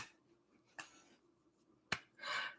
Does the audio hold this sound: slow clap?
yes